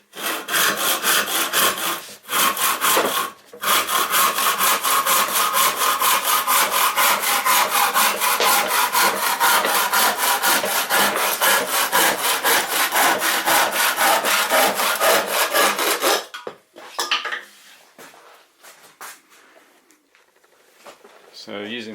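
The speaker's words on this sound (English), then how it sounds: "Usually I turn my jumbo bandsaw on, but do use my handsaw for a change." A handsaw cuts scrap wood in fast, even back-and-forth rasping strokes, loud and close, with a couple of brief pauses. The strokes stop at about sixteen seconds and give way to quieter handling noises.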